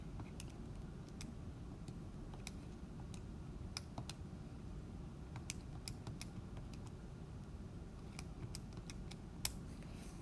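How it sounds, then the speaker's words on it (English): Quiet key presses on a calculator as a sigma formula is entered, scattered soft clicks spaced irregularly over a steady low room hum. "And then I'm going to type this sigma into the calculator."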